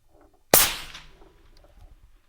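One sharp rifle crack rings out at a long-range shooting session, with a brief trailing echo, a delayed distant target impact, and faint background rustle afterward.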